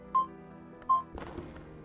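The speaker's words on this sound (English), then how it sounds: "And there's my phone going off." A mobile phone gives two short, sharp electronic tones about three-quarters of a second apart, then a burst of rustling and handling noise follows, all in a quiet room.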